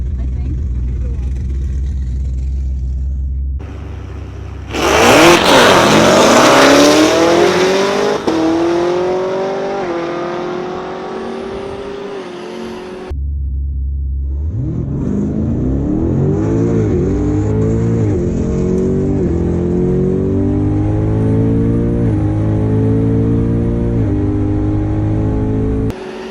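A 1000hp twin-turbo Camaro ZL1 launches hard and accelerates, its engine screaming up through rising revs with a brief gap, then pulling again through repeated climbing gear sweeps, loud and close, with occasional talking over it.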